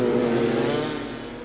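A 210cc two-stroke Villiers racing kart engine in the gearbox class wails at high revs, a loud, buzzing, harmonic-rich drone that fades slightly as it moves away, with no talk over it.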